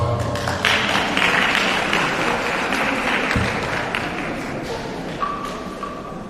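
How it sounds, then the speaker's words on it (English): An audience at a G20 civil society gathering applauds a deputy minister, a loud crowd clapping mixed with thumps and taps, gradually fading, with a faint ringing tone near the end. "Another round of applause."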